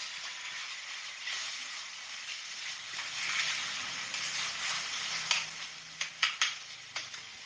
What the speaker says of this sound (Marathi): पण आता हे टोमॅटो सुद्धा आपल्याला छान मऊ होईपर्यंत छान शिजून घ्यायचे आहेत.